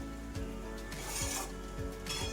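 Sabudana khichdi being stirred in a pan, with a spoon rubbing and scraping through the soaked sago pearls in a few quiet, rhythmic strokes against a faint sizzle.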